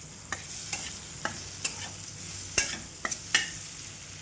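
Raw mango pieces with red chili powder, white salt and black salt being stirred in a pan, a quiet steady sizzle broken by about eight sharp scraping clicks of the spoon against the pan, spaced irregularly.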